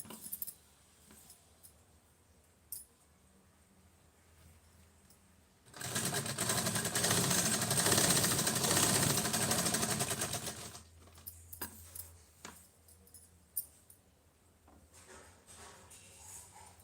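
A sewing machine stitches a fall onto a saree in one loud, steady run of about five seconds, preceded and followed by quiet handling noises and small clicks of fabric being adjusted.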